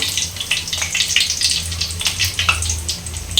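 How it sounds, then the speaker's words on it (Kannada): Green chillies frying in hot oil, a close, continuous crackling sizzle with sharp pops and spits throughout. "ಸೊ ಇಲ್ಲಿ ಹಸಿಮೆಣ್ಸಿನ್ಕಾಯಿ ಫ್ರೈ ಮಾಡ್ಕೊತಾ ಇದ್ದೀನಿ"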